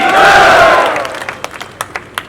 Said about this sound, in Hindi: जोर से अभिनंदन करो तालियां बजाकर।